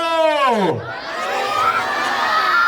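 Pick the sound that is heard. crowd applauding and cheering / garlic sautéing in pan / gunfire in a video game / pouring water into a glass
crowd applauding and cheering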